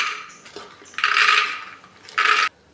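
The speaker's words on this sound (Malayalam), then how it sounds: "നമുക്ക് ആദ്യം ഇതിലേക്ക് ഗ്രീൻ പീസ് ഇട്ട് കൊടുക്കാം." Green peas tipped into a pressure cooker, two short rattling pours of small hard pellets against metal, close and fairly loud, with a quiet pause between them.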